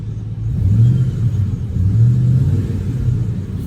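An auction Ford F-150 pickup with dual exhaust revs up, a loud, deep engine rumble rising and falling in two or three swells, close by with no talk over it.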